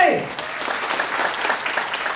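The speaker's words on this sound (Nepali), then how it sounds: "जोरदार ताली" An audience at a seminar bursts into applause, giving a dense, steady clapping that fills the short moment after a brief voice.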